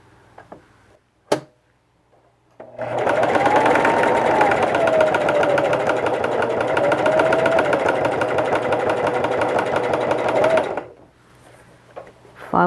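A sewing machine runs steadily for about eight seconds, stitching a fabric face mask, loud and close, with a brief click before it starts and quiet after it stops.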